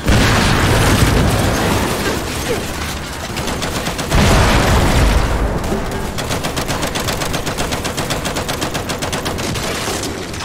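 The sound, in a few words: fire grenade exploding in a video game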